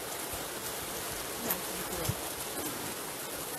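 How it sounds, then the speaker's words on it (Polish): Heavy rain pours onto a garden gazebo in a forest, a dense continuous patter with a few louder drops hitting nearby, heard alone without voices. "Niesamowicie po prostu leje."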